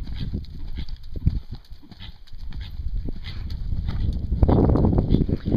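A horse cantering during a riding lesson gives rhythmic, fairly close hoofbeats that thud unevenly over a soft background, growing busier and louder toward the end.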